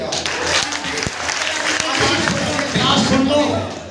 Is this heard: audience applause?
yes